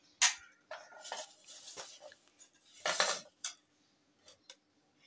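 A utensil clinks and scrapes against a bowl while Chinese pakora batter of white pepper, baking powder, red chilli and salt is mixed, giving sharp irregular knocks and softer stirring sounds between short quiet gaps.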